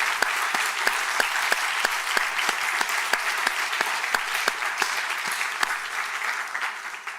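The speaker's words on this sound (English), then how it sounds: "let's give them a round of applause for their work tonight" Audience applause at a community forum, a steady wash of many hands clapping with crisp individual claps standing out, sustained throughout and tapering slightly at the end.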